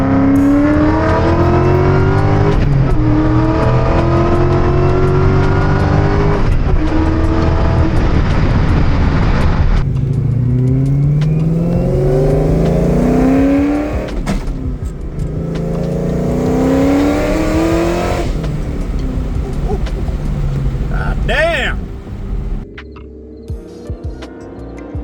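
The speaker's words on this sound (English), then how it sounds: "I finally got to take the car out and bang some gears after almost a year of work" A Ford SVT Cobra engine revs hard as the car accelerates through several gears, each loud rising pull broken by a brief shift pause, before the engine eases off and fades near the end.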